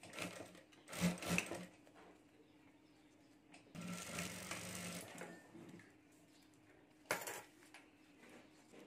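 Short, quiet bursts of a sewing machine stitching fabric on a small keychain-sized bagpack, heard up close with gaps between the runs.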